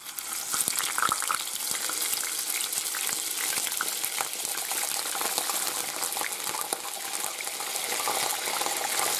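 Salt cod confiting in hot oil in a pan with garlic and chili, a dense continuous sizzle with crackling pops and spits throughout, close and loud with no talking.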